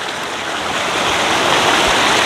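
A swift river current in a natural gorge rushes in a loud, close, unbroken roar of turbulent water, steady throughout.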